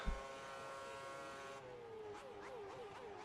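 A McLaren Formula 1 car in an F1 career-mode video game at the Valencia Grand Prix screams at a steady high-revving pitch, then gear changes shift the whine in quick stepped rises through the rest of the run, with no talk.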